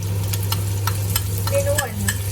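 Curry paste sizzles and fries in hot oil in a pan, with a steady hiss, light stirring scrapes and a low hum beneath.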